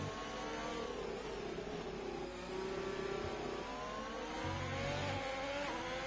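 Race car engines revving and whirring at a steady mid pitch as Ferraris are overtaken in a racing game, a continuous drone that rises and falls slightly with acceleration.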